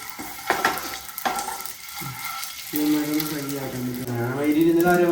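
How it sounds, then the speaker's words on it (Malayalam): Oil sizzles steadily as boiled eggs fry in a pan, with a few clattering stirs and scrapes early on, close and fairly loud. "മുട്ട ഇങ്ങനെ പൊരിച്ച് തിന്നണം പുഴുങ്ങിയിട്ട് പൊരിക്കണം"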